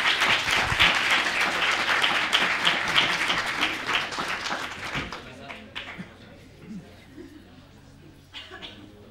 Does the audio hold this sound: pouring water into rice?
no